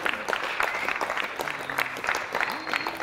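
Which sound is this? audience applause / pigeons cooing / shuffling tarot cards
audience applause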